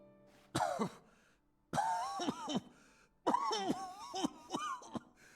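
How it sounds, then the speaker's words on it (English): A character in the video game Deadly Premonition 2 has several harsh, strained coughing fits in three bursts separated by short pauses, loud and close. "Patty, I have vague anime cough up blood disease as well as cancer."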